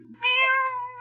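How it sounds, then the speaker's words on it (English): A cat gives a single clear, drawn-out meow in a 1940s old-time radio mystery drama, loud and close. "Where in blazes that cat come from?"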